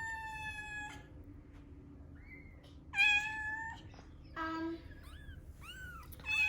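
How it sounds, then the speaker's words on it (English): A mother cat meows several times in a row, clear separate calls with gaps between them, close by over a low steady background murmur. "And that's the mommy cat."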